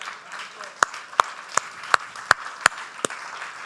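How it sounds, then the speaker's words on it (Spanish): A church congregation at a worship service applauds, with sharp, evenly spaced claps landing roughly three times a second over a softer wash of crowd noise. "Denle un aplauso al Señor"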